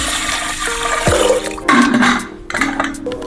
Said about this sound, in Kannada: ಈಗ ಸ್ವಲ್ಪ ನೀರು ಹಾಕ್ಕೊಳ್ತಾ ಇದ್ದೀನಿ.